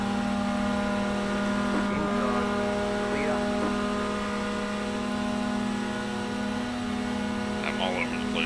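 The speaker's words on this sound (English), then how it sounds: "And opponent cars are very loud." Steady race-car engine drone from the iRacing video game, Mini Stock cars on an oval, with a constant humming tone throughout, moderately loud, with faint talking now and then underneath.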